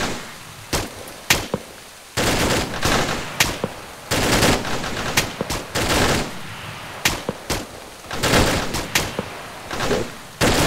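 Bursts and single shots of gunfire crack back and forth during a night firefight in the military game Arma 3, some shots close and loud, others sharper and more distant, in irregular rapid volleys with no talking.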